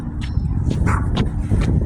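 A neighbour's small dog gives several short, soft barks and yips outdoors at a moderate distance, spaced irregularly over steady low background rumble.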